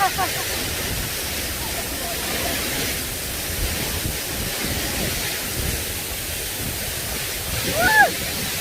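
Man-made waterfall on an urban waterway in Korea, rushing and splashing as a steady broadband roar that fills the whole clip, close and loud, with a brief surge near the end.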